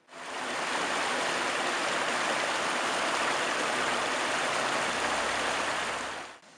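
A river fed with mine tailings waste, poured in through mudflow channels, rushes by as a dense, steady roar of flowing water with no voices, holding even from start to finish.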